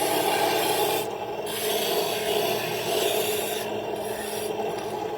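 Steady, close rasping and rubbing of a tool over a carved Celtic cross, continuous with brief pauses in the scraping stroke.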